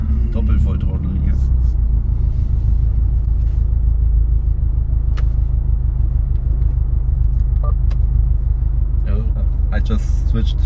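A Subaru at full throttle in Sport Sharp mode on a German autobahn during a head gasket stress test, heard from inside as a loud, steady, deep engine and road rumble, with people talking over it.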